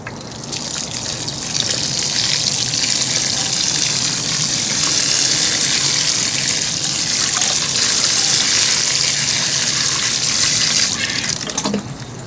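Water gushes steadily from the top into a self-wicking bucket planted with potatoes: a loud, continuous, close splashing pour that holds for about twelve seconds with no voices.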